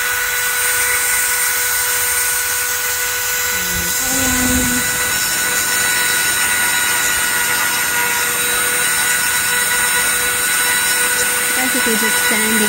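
A steady high-pitched whine of a small rotary tool sanding resin runs continuously, grinding close up with no voices over it.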